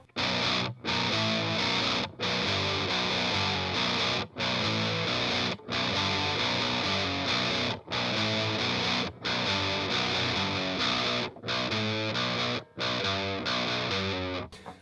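A distorted electric guitar plays a steady, driving section of a song: thick sustained chords broken by brief regular gaps, loud and close for the whole stretch, with no talking.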